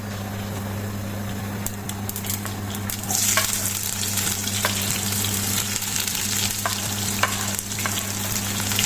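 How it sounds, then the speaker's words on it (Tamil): Chopped onion, garlic and green chili sizzle and fry in hot oil for drumstick leaves fry, with steady crackling throughout and occasional scrapes and clinks of stirring; a low hum runs underneath and no one speaks. "எங்களுக்கு வெங்காயம் பச்சை மிளகாய் வெள்ளைப்பூடு எல்லாம் இந்த எண்ணெயில் வதங்கணும்"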